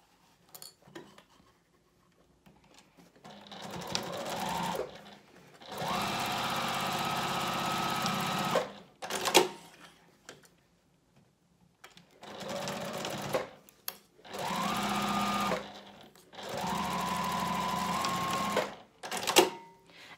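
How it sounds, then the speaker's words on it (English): Sewing machine stitching the bottom edges of a reversible fabric basket at a quarter-inch seam with backstitching: several bursts of steady whirring motor hum, each a few seconds long, separated by pauses with light handling clicks. "Now stitch along both bottom edges using 1/4 inch seam allowance, back stitching at the beginning and end."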